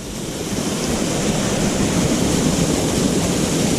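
Rain-swollen water cascades down rocks beside the Courthouse Rock hiking trail toward Quilliam Cave, producing a steady, dense rushing roar that is close and loud, with no voices over it.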